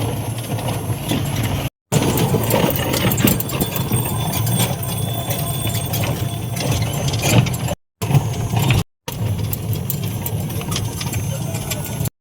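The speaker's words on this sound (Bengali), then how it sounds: "আমরা এখন টোটো উঠে পড়লাম" A steady road rumble and whir fill a ride in a toto, an electric rickshaw, in Kharupetia, with faint rattles and occasional brief cut-outs, while people talk throughout.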